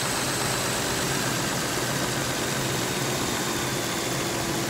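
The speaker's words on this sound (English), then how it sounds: "Compressor just kicked on." Toyota Sienna engine idling with the AC compressor engaged, a steady, dense broadband hum and hiss that holds unchanged throughout, close and loud with no voices.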